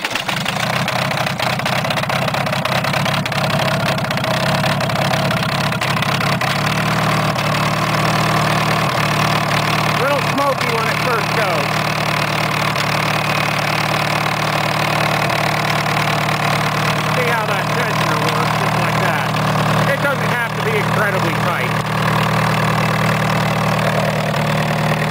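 A Volkswagen engine driving a Fairbanks Morse generator runs steadily at idle for the whole stretch, a continuous loud low drone with a constant hum and no talking.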